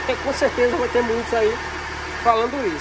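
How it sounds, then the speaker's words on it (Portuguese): A car engine idles with a worn accessory belt tensioner bearing, giving a steady low droning hum beneath someone talking throughout. "esse roncado, esse ruído aí de rolamento estragado"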